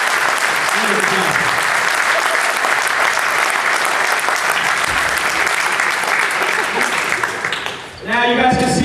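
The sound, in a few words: people applauding after a basketball workout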